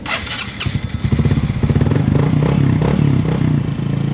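A Honda XRM/RS 125fi motorcycle engine, just fitted with a new chain roller, starts and settles into a loud, close, steady idle with a rhythmic putter and no other sounds over it.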